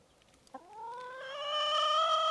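A chicken on a farm beneath the Great Wall in China gives a single drawn-out call after a brief knock, its tone rising slightly and growing louder as it is held, close and clear in an otherwise quiet setting.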